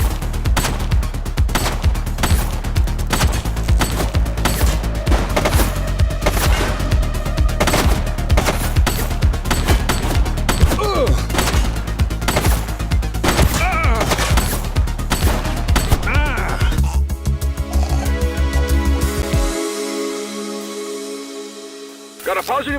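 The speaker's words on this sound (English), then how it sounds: "He's shooting!" Sustained heavy gunfire during a shootout in the video game The Precinct, loud rapid automatic bursts and repeated shots filling the scene before tapering off near the end, with in-game voices shouting among the shots.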